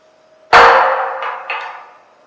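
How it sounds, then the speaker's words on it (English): A hammer strikes a cut steel piece to knock it free during steel fitting work, one loud sharp metallic clang that rings and decays, with a smaller second tap following. "grab a hammer. Usually takes a couple good swings to get it right off."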